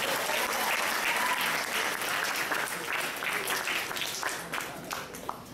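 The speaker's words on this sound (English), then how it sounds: "Please give me a big round of applause." Sustained, loud applause from a large audience at a Year 12 formal, a dense wash of clapping that holds steady before thinning slightly toward the end.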